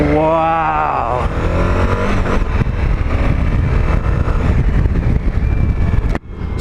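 A 2021 Suzuki V-Strom 1050XT engine while riding: a loud, steady drone with a rising pitch at the start, heavy wind rumble throughout, and a brief dip near the end.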